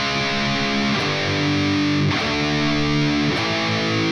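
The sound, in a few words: distorted electric guitar power chords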